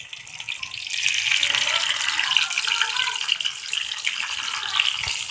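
Stuffed green chillies frying in two spoons of hot oil in a frying pan, a steady bright hiss of sizzling oil that swells after the first second and carries on evenly, close and fairly loud.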